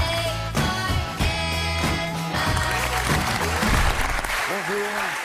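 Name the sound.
studio audience applauding Olympic gymnast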